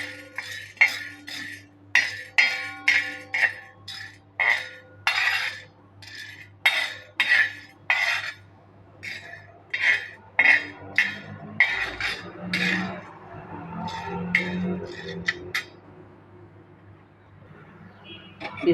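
Chana dal roasting in a pan for chutney, with a utensil scraping and stirring in regular close strokes that rattle the metal, followed by a softer, steadier sizzle toward the end.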